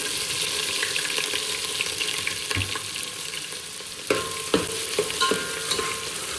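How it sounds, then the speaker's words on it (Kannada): Whole spices and ginger-garlic paste fry in a pan with a loud, steady sizzle. A spoon stirs and scrapes, giving a few sharper clinks and scrapes partway through. "ಈಗ ಜಸ್ಟ್ ಹೋಲ್ ಸ್ಪೈಸಸ್ನ ಹಾಕೋತಾ ಇದ್ದೀನಿ ನಂತರ ಇಲ್ಲಿ ಶುಂಠಿ ಬೆಳ್ಳುಳ್ಳಿ ಪೇಸ್ಟ್ ಹಾಕೋತಾ ಇದ್ದೀನಿ"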